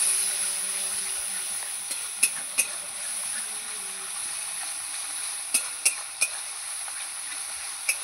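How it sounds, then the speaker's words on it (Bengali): Chili powder and salt stirred into a masala frying in a pan for a pabda fish curry: a soft, steady sizzle broken by a few sharp spatula scrapes and clicks, with no voices. "লঙ্কার গুঁড়ো নিয়েছি, দিয়ে দেবো। লবণ দিয়ে দেবো। ভালো করে নাড়িয়ে নেব।"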